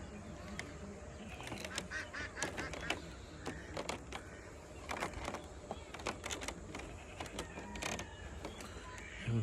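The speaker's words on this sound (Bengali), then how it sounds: "হাঁসগুলো যাচ্ছে সাগর পার হয়ে।" Ducks crossing over the sea near Shariatpur under a cloudy sky give repeated honking calls at a low level over a faint background hum.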